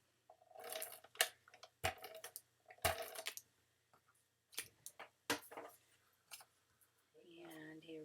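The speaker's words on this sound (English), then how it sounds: "take our scissors and do a little trimmeroo." Scissors snip a paper card panel in a series of short, crisp cuts, irregular and close, with quiet pauses between strokes and soft talk near the end.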